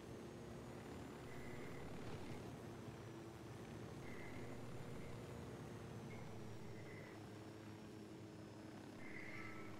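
A helicopter in the video game Ghost Recon Wildlands gives off a faint, continuous rotor and engine drone, with a few brief higher tones flickering over it.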